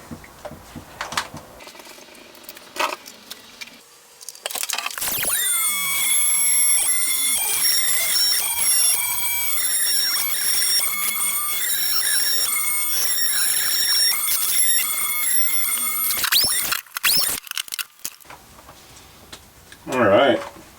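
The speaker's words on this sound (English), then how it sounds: "we'll just cut it here" Power tool cutting an opening into a boat's tank, a loud sustained whining squeal with wavering pitch lasting about ten seconds, close by, with brief talk before and after.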